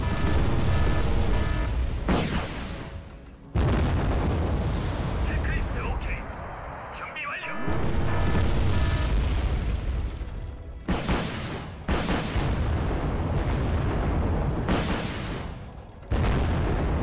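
In Wargame Red Dragon, a napalm strike sets off heavy explosions as repeated loud, booming blasts with long roaring bodies and short gaps between them, while a voice talks over the din.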